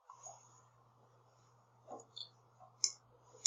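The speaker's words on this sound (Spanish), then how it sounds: "Luego le damos clic derecho, dar formato al eje" Computer mouse clicks while formatting a chart axis: a few short, sharp clicks near the end, sparse and close, with a faint steady hum and soft background noise between them.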